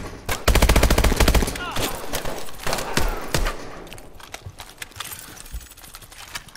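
Rapid automatic gunfire in Call of Duty: Advanced Warfare rattles close and loud at first, then breaks into scattered shorter bursts and single shots that thin out and grow fainter.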